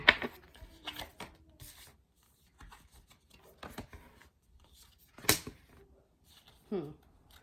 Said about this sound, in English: 4 more shuffles.